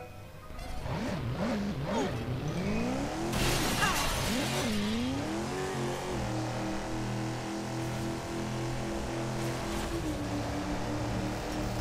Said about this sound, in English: First, I gotta get in my car.